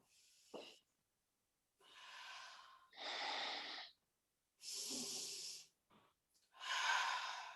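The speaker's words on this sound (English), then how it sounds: "Anything that you feel the need to rid yourself of and get out of your body, do it with an exhale." Several slow, breathy exhales during a calm breathing exercise, close and soft, separated by silent pauses, each a long airy whoosh with a short sharp intake near the start.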